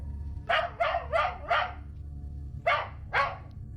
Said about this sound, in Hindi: ये कुत्ते कितने परेशान करते हैं।